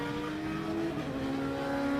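Race cars run at Silverstone International, a steady engine drone with a sustained tonal whine that shifts pitch as they pass at moderate distance, with no voices.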